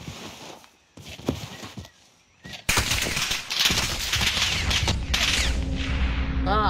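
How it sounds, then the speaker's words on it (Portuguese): Gunfire in a battle-royale shooter game, sparse shots and footsteps at first, then a dense, loud burst of rapid fire and impacts that continues without a break. "O cara tá atirando em mim de longe pra caralho"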